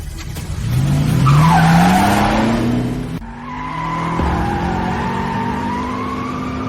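A car peels away fast with a loud, rising tire squeal over a revving engine, then settles into a steady engine drone as it pulls off.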